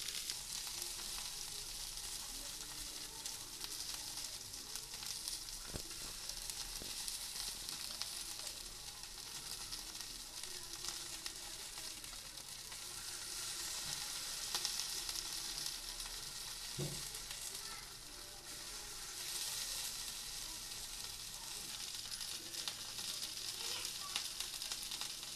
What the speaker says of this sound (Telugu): వీటిని రెండు వైపులా బాగా ఫ్రై చేసుకోవాలి।